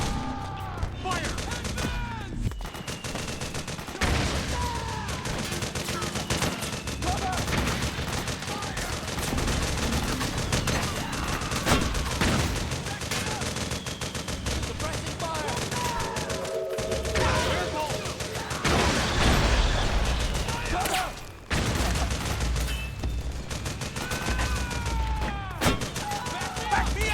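Sustained automatic gunfire and rapid fusillades from a Metal Gear Solid 4 firefight, loud and dense throughout with booming bursts, under shouted voices.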